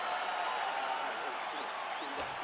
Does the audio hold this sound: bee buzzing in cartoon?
no